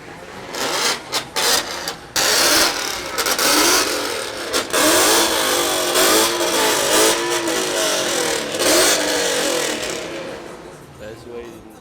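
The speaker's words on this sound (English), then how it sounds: "They're having a rev competition over there." Car engines rev at a rev competition during a summer car show in the RGV, with loud, repeated rising and falling engine whines and some sharp bursts, heard over nearby talking and a noisy crowd.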